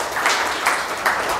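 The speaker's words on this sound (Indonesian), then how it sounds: "Kasih tepuk tangan untuk Tuhan." A congregation claps during a church sermon, a broad steady wash of applause with slight swells, heard alone without voices.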